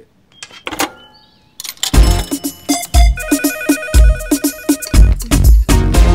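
An electronic phone ringtone plays a bright, repeating melody of short beeping tones, loud and close, after a few clicks and a rustle.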